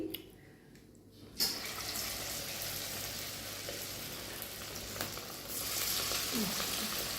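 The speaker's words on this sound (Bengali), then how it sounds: "দেখতেই পাচ্ছ পকোড়াগুলো ভেজে নিচ্ছি এক এক করে" Pakoras deep frying in hot oil, added one at a time, give a steady crackling sizzle that starts abruptly after a quiet opening second and continues at moderate loudness to the end.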